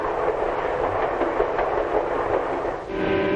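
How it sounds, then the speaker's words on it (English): Passenger train hurrying along the rails through farm country, a continuous rumbling roll with faint rhythmic clatter of wheels, steady and fairly close throughout. "Now the train's hurrying through farm country."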